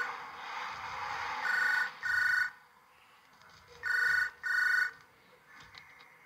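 Phone rings in a video game, two paired bursts of a bright electronic ring separated by a pause, loud and near over a low ambient hum.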